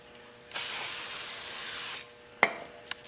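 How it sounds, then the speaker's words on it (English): Brake cleaner solvent sprayed onto Ford Powerstroke Super Duty rear brake parts in one long, loud, steady aerosol hiss of about a second and a half, followed by a sharp clank and a fainter knock. "that solvent in the brake cleaner will take it right off of there"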